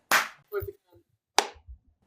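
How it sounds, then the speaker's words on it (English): Two quick, sharp hand claps sound close and crisp about a second apart in a quiet room, with a brief murmur of voice between them. "Can you do a quick clap for Brogues, please?"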